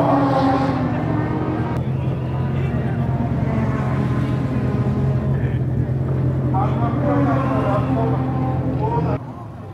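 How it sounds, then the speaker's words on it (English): A Toyota AE86 race car idles and revs while warming up at Tsukuba Circuit, a steady loud engine drone with rising harmonics, with people talking faintly in the background until it cuts off near the end. "Warming up the engine and the rear end."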